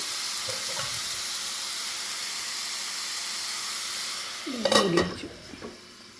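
Beetroot stir-fry (mezhukkupuratti) sizzles and hisses steadily in a pan. A lid or utensil clatters sharply near the end as the pan is covered, and the gentle frying continues afterward.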